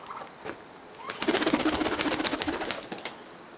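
Pigeons in a loft, with a soft coo and then a close burst of rapid wing flapping lasting a couple of seconds before settling.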